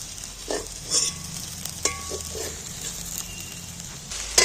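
Onions frying in oil in a pan give a low crackling sizzle broken by a few clear spatula scrapes and taps, with no voices present.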